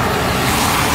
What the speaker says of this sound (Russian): поток машин здесь просто огромный